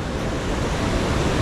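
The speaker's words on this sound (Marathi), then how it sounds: "धबधबा" The Nanemachi waterfall in the Sahyadri hills rushes with a loud, broad, continuous roar of falling water, mixed with wind buffeting close to the microphone and no voices.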